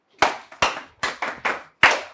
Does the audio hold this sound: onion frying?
no